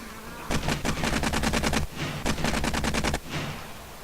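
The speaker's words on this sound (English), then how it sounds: "I'm gonna shoot this thing in a minute." Rapid automatic gunfire from the video game 7 Days to Die, two sustained bursts of closely spaced shots with a short gap between them, loud and up front, with no talk.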